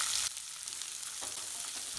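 Onions sizzle and crackle steadily in a hot pan, a close, even frying hiss with a brief louder burst at the start.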